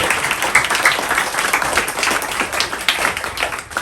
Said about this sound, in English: Can I ask everyone to give the panel a round of applause?